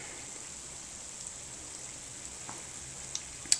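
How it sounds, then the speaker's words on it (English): Potato balls frying in hot oil, a faint, steady sizzle with a few small pops and crackles, heard alone without talk. "So yeah, they're just frying."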